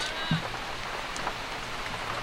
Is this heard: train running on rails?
no